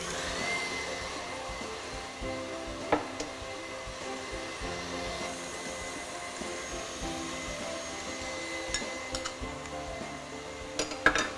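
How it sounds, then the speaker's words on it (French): An electric mixer beats egg yolks with sugar for tiramisu in a steady, moderate whir, with a few light clinks of the beaters against the bowl scattered throughout. "je vais blanchir les jaunes d'œufs تاعنا avec le sucre"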